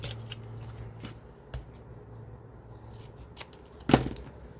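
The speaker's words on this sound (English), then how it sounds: "So just eyeballing it, I'm going to cut a piece about that long." Scissors snip a small piece of material to make a gusset, giving a few faint, sparse cuts against a quiet room with a sharper snip near the end.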